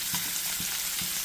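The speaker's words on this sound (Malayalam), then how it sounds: "മുളക് പൊടി, മഞ്ഞപ്പൊടി, മല്ലിപ്പൊടി സാധനമൊക്കെ ഇട്ട് മത്തി നമ്മൾ സാധാരണ വറക്കുന്ന പോലെ വറുത്തെടുക്കുക" Sardines fry in a pan coated with chili, turmeric and coriander powder, giving a loud, continuous sizzle with a few soft stirring knocks and no talking.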